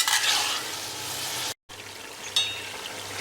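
Chopped onions sizzle steadily in a hot pan while being cooked down for a mutton curry, a bright continuous hiss broken by a sudden brief silence before the frying resumes.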